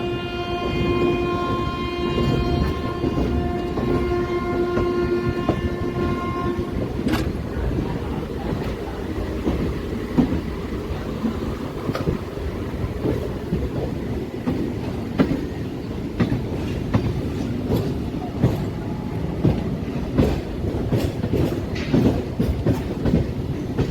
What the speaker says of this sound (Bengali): এই দিকে ঢুকছে কিং হাওড়া নিউ দিল্লি রাজধানী এক্সপ্রেস